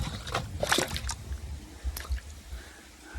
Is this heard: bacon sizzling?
no